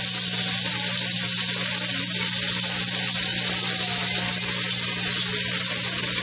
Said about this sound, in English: now we just got that little piece that we're just gonna sear real good